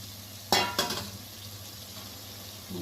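Fish pieces dropped into hot oil in a pan for fish curry, two sharp bursts of sizzling close together that settle into a low, steady frying hiss.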